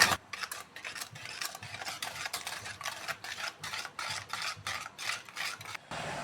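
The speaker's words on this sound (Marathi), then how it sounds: "आता परत मी त्याला चांगला मिक्स करून घेणार" Yogurt, sugar and water being stirred together in a bowl for dahi vada batter, a steady run of quick scraping, rasping spoon strokes close by, with no talking.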